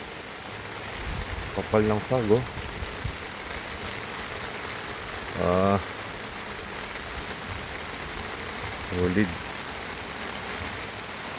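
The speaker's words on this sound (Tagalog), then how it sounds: "Kahit malakas ang ulan oh." Heavy typhoon rain pours steadily over a campsite in Bamban, Tarlac, making a constant close hiss throughout, while someone speaks briefly over it several times.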